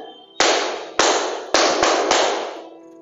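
Five sharp hand claps are struck in a rhythmic pattern, a teacher demonstrating musical clapping for young students; the claps are close and crisp, with uneven spacing and short ringing decays.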